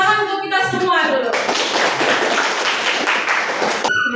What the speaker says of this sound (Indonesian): Oke, tepuk tangan untuk kita semua dulu.